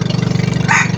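A small engine test-runs up close with a fast, even putter of pulses, a brief hiss of higher noise near the end.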